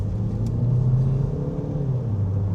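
A Ford Kuga diesel engine revs under full throttle, a steady deep droning rumble and hum heard from inside the car, with the pitch rising slightly and holding without dropping.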